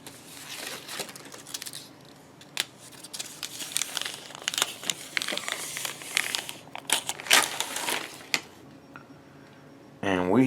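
Protective paper peeled and crumpled off a new Fesley Telecaster electric guitar, a long run of close crinkling and tearing rustles with sharp crackles, ending in a brief burst of voice.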